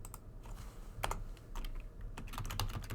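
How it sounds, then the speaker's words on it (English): Keys clack on a computer keyboard in quiet, irregular bursts of taps, close and faint with no voices over them. "if I continue typing in here"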